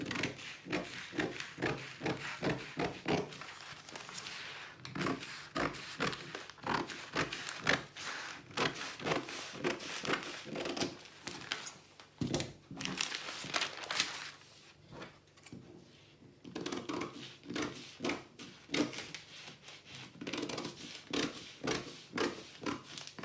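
Scissors cutting out a paper shirt collar pattern, a close series of rhythmic crisp snips and paper rustles with brief pauses, fairly quiet.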